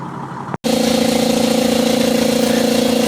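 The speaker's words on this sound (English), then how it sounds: "So here's the compressor we use." A shred truck's air compressor kicks on after a brief silence and runs loud and close, a steady pulsing mechanical drone with a strong low hum that holds without letup.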